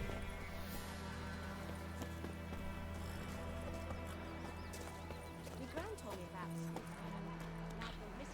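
Geralt's horse Roach in The Witcher 3, steady clip-clop of hooves under a droning music bed, with a voice speaking over the top.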